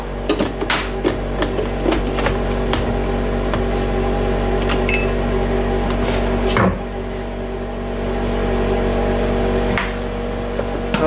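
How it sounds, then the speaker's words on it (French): A Thermomix blends shallots with a steady, loud motor hum and whirring that runs continuously throughout, broken by occasional clicks and knocks. "On va mixer ça. Je suis désolé pour le bruit s'il y en a."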